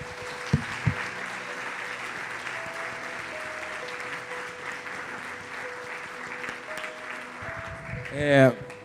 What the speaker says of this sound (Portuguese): Convido você a aplaudir ao Senhor e glorificar a Deus.